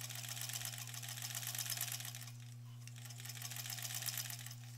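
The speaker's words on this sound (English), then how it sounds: "I've just sewn shut that bottom, which is great" A sewing machine runs steadily, closing the bottom of a fabric zipper pouch, a quiet continuous rapid stitching whir over low electrical hum, with no talk.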